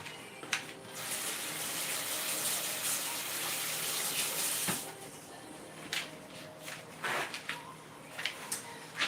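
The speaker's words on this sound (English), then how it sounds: "I'm gonna wash my hands real quick." A kitchen tap runs in a steady hiss for several seconds while hands are washed, then shuts off, followed by scattered clinks and light handling noises nearby.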